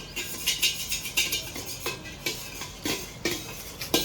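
A grandmother mixes a snack of poha, puffed rice and peanuts in a bowl, with a brisk, steady rhythm of close scraping and rattling strokes.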